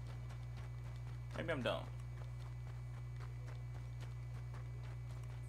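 Horse hooves clip-clopping in the video game Red Dead Redemption 2, a brief soft run of steps under a constant low hum, with a voice talking over it.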